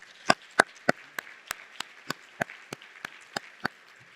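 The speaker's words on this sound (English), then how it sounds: "let's give them a round of applause for their..." Sparse applause at a lunch business meeting, a dozen or so distinct claps spaced evenly in a slow, steady rhythm, sharp and fairly close, standing alone against a quiet room.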